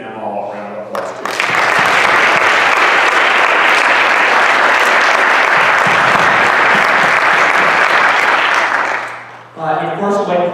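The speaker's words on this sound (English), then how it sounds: "let's please give them all a round of applause too." Sustained applause from a conference audience, loud and dense for about eight seconds before fading, with a brief spoken voice at the start and end.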